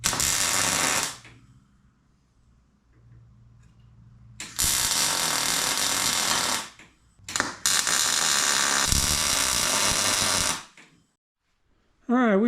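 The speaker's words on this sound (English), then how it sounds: "let's weld it up." Metal being welded in a metal shop, two long loud bursts of harsh crackling hiss with a short break between, separated by quieter stretches of low hum and a little clatter.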